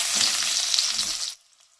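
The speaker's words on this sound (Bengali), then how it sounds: "আলুটা একটু ভাজা ভাজা করে নেব।" Potatoes sizzle loudly in hot oil for over a second, then the frying noise cuts off abruptly, leaving near silence.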